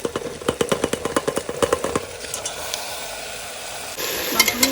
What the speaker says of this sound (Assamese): মাংসখিনি দিয়াৰ পাছত এনেকৈ ভালকৈ লৰাই দিব লাগিব